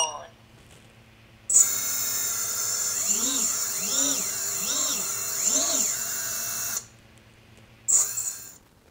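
Motors on a QAV250 quadcopter spin up after arming with a steady high-pitched whine. Rising and falling tones pulse through it several times before the motors cut off, then come back briefly at the end.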